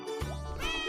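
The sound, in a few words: cat meowing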